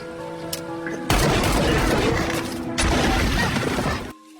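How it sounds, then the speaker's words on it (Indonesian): A burst of rapid gunfire in an action film shootout involving a police officer rings out in two long, dense volleys separated by a brief gap, loud and close, with a few faint earlier shots. "lalu saling menembak, tapi tidak ada yang kena."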